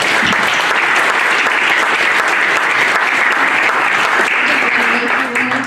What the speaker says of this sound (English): Ladies and gentlemen, give the candidates a round of applause.